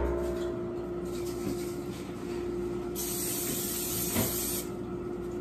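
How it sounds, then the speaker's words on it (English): A long, steady hiss of aerosol cooking spray on a muffin pan runs for a couple of seconds, close and fairly loud, followed by a brief clunk. "I'm gonna spray down this pan"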